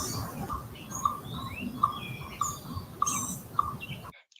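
An owl calls repeatedly at night, short mid-pitched hoots or squeaks recurring about every half second to second over a steady low rumble of background noise, with faint higher chirps scattered between, ending abruptly.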